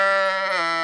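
A sheep gives one long, loud, wavering bleat from close by, inside a tent packed with sheep on a Lithuanian farm.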